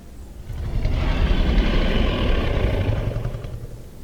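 A low, rumbling growl-like mating call of a Saurophaganax dinosaur in the video game Path of Titans swells up and sustains, breathy and deep, then slowly tapers off.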